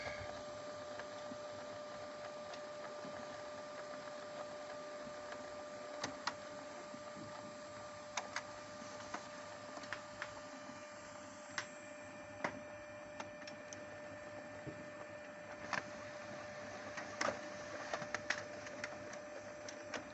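An HP Color LaserJet MFP179 laser printer runs a test print after a paper-jam repair, giving a steady quiet mechanical hum with a high whine and irregular small clicks and ticks.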